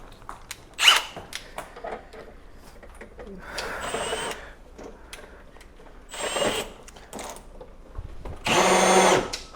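Cordless power drill used in a garage makeover, running in several short whirring bursts, loudest in a sustained run at the end, with brief pauses between and some background handling noise.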